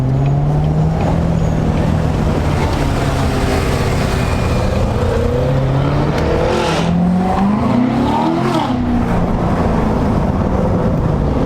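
A Corvette Stingray with loud exhaust drives along, its engine droning steadily and loudly up close, then revving and rising in pitch through several accelerations before settling back.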